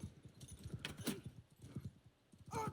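Horse hooves gallop in Mount & Blade II: Bannerlord during a brigand cavalry charge, a loud rhythmic clip-clop of game hoofbeats running steadily with a brief whinny-like burst near the end.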